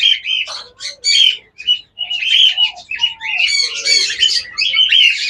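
A pair of red diamond doves calls in shrill, close chirps and squawks that come in uneven bursts with short pauses, and the calls stay loud and clear with no talk over them.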